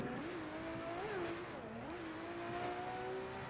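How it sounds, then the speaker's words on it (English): A Porsche race car spins donuts and drifts in the RENNSPORT racing game at Spa-Francorchamps, its engine whining with rising and falling pitch over continuous tire squeal. "Great donuts here by Dominik Ladler, and a little drift around his Porsche colleague as well."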